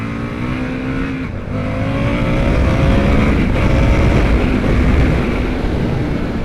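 An Indian FTR 1200 motorcycle engine revs hard and climbs in pitch, accelerating fast close by with a steady roar throughout.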